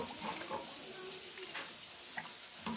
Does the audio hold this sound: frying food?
yes